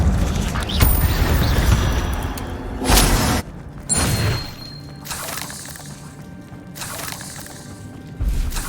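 An Incendio fire spell in Hogwarts Legacy erupts in several loud crackling whooshes and bursts, separated by quieter gaps of rumbling game noise.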